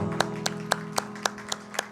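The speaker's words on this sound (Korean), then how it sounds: "우리 행하실 주님 앞에 감사와 영광의 박수를 드리도록 하겠습니다." A church congregation at a Sunday worship service claps in steady unison, seven evenly spaced claps about a quarter second apart over a soft sustained organ or keyboard tone.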